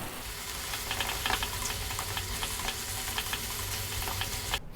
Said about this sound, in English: Stirring, stirring, stirring. Getting that sauce in, on and around our pasta.